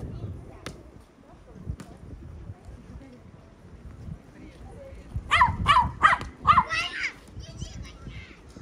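A dog on a seaside promenade barks in a quick cluster of several yelps partway through, over outdoor ambience with children and people talking nearby.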